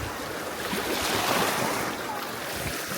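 Sea waves wash steadily against the shore at Maraş in Cyprus, with a constant hiss and gentle swells under strong wind buffeting the microphone.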